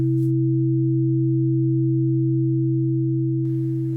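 Two steady synthesized sine tones sound together and drift slightly against each other, creating a smooth interference beating that holds for several seconds before a brief noisy tail.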